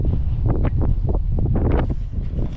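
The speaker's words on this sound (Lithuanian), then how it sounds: "Vėjas koksai." Strong wind buffeting an outdoor microphone near a river crossing, a rough low roar with irregular gusting bursts throughout, loud and close.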